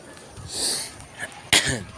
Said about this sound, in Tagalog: piste kang ubo ka